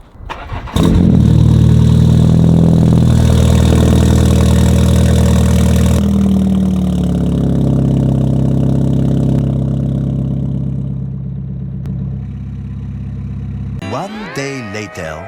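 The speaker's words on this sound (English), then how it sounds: "let's actually go and get the last cold start of the 330e" A BMW 330e on its stock exhaust fires up from cold, catching with a burst of revs and then settling into a loud, steady idle, with clattering handling noise at the very end.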